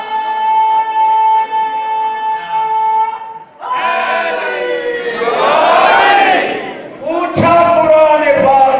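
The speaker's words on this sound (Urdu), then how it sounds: "پوری طاقت کے ساتھ نعرے لگاؤ، مل کے لگاؤ" A large crowd at a religious majlis gathering roars a slogan in unison, loud and reverberant, with a lone amplified voice leading before the mass shout swells and surges again.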